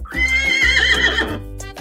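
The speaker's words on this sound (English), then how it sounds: "Horse says." A single loud, close horse whinny rises and trails off over about a second and a half, heard alone with no talk.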